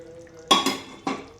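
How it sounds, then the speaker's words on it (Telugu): Paneer pieces dropped into a pan of restaurant-style paneer curry, with oil risen to the top, giving two or three soft, wet clattering thuds against the pan, close and brief, no voices. "ఇందులో అయితే మనం పన్నీర్ వేసేద్దాం"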